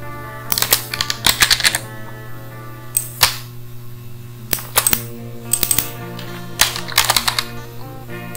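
Computer keyboard keys clatter in short bursts of clicks with brief pauses between them as copy and paste shortcuts are pressed, over a steady low hum.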